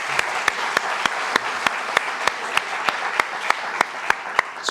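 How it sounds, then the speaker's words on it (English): Audience applause at a climate change talk: sustained clapping from a room of people, with one nearby clapper's sharp, evenly spaced claps standing out over the wash. "A round of applause for Don Henry."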